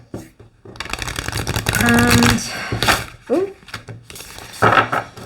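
Tarot cards being shuffled in a riffling, uneven burst near the start and again in short bursts later, close and clear; a voice talks between and over the card noise.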